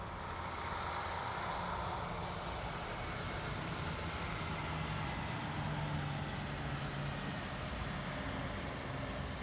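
A Boeing 737 airliner landing at Anchorage airport produces a steady, distant jet engine roar, a broad continuous rumble and hiss that holds evenly throughout with no talking.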